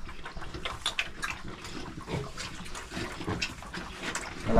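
Pigs on a farm, a dense close jumble of grunts, snuffling and wet slurping sounds, fairly quiet and continuous.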